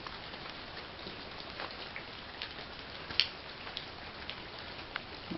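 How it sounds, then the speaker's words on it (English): Heavy rain pours outdoors as a steady, fairly faint hiss, broken by a few sharper drop taps, with no speech. "it's pouring the rain out here"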